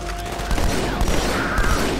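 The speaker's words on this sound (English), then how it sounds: "Oh, that's our guys firing." A quick burst of allied soldiers' gunfire in the video game Halo 2, rapid rattling shots in a dense, noisy battle mix.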